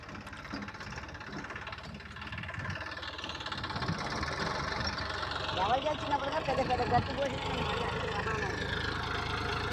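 An Eicher 480 tractor engine runs at a steady idle-like chug, its level rising slightly toward the end, with people talking over it.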